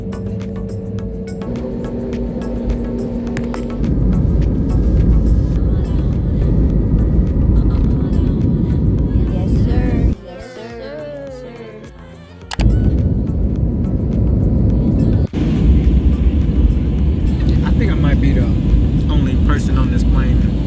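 A passenger airplane landing with its engines in reverse thrust makes a loud, steady roar that fills the cabin, drops briefly into a softer hum, then surges back, with occasional thumps.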